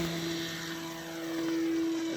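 A Fun Cub model airplane's electric propeller motor runs steadily with a strong, even tonal whine and airy buzz, close and loud throughout without speech.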